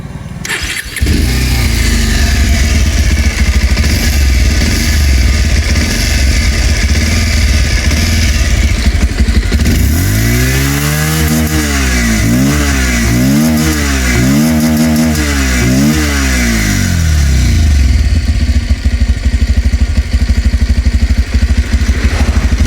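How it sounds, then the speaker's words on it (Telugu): A Bajaj Pulsar 150 twin-disc motorcycle with a single long black exhaust starts up and idles close by, then is revved several times in quick rhythmic bursts before settling back to a steady idle. "ఒకసారి ఎగ్జాస్ట్ సౌండ్ వినండి"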